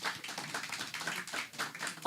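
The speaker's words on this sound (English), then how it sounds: "let us all give a warm round of applause to our speaker" A seated audience at a university program gives a warm round of applause, a steady patter of many hands clapping together for about two seconds, moderately loud and without talk.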